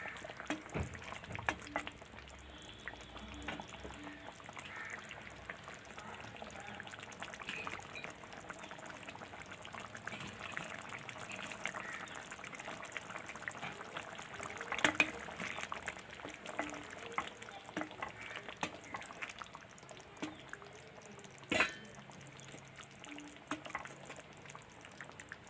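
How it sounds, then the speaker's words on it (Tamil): A pot of eggplant kara kulambu curry bubbles steadily while it thickens, a soft and constant simmer with an occasional louder pop, with no one speaking over it. "குழம்பு கொதிச்சு நல்லா கெட்டியாகிடுச்சுங்க."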